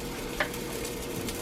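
Turkey meatballs sizzle steadily in a hot cast iron pan, a continuous close frying hiss with one brief sharper crackle early on and no talking.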